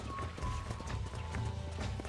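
Horse hooves clip-clop in a quick, even trot in the Western game Red Dead Redemption, close and fairly loud over a low rumble, with no voices.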